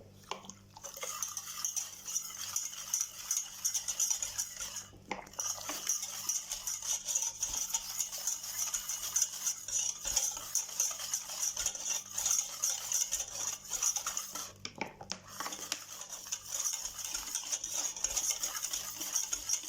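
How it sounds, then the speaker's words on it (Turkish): A spoon stirs cocoa powder in a bowl as water goes in slowly, a soft, continuous scraping with light clinks, faint and steady across the span, with no talk. "Şöyle bir karıştırıyorum ve suyumu yavaş yavaş ilave ediyorum."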